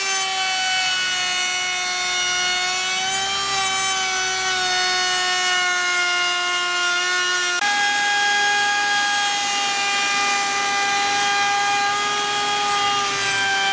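A Hikoki 36V cordless half-inch plunge router cuts a half-inch square channel along Amora hardwood from Indonesia, giving a loud, steady high-pitched whine with many harmonics and a slight pitch drop midway, alone and without talk.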